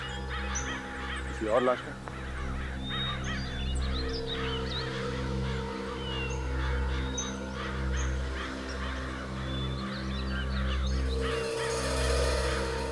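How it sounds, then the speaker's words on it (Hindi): A flock of crows caws repeatedly near water in a crime drama scene, harsh calls scattered over a steady low hum and background score while someone speaks. "वहां थोड़ा पानी दिख रहा है और बहुत सारे कौवे भी मंडरा रहे हैं।"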